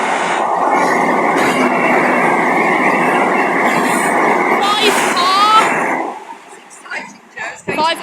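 A Penzance to Edinburgh express rumbles loudly through Teignmouth station by the sea, wheels squealing near the end as the noise drops and the train passes; a voice is heard in the background.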